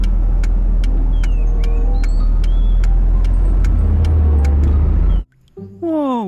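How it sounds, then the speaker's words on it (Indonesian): A toy car steering wheel plays a loud, steady recorded engine rumble with periodic clicks and tones for about five seconds, then cuts off abruptly before a brief voice-like sound. "Yang ini mainan setir mobil."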